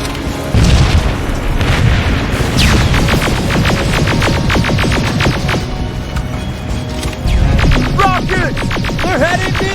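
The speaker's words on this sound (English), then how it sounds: "Rockets! They're heading this way!" Rocket explosions booming through a battle in the Terminator: Resistance video game: a loud, dense barrage of heavy blasts and rumble, with brief voice-like calls rising near the end.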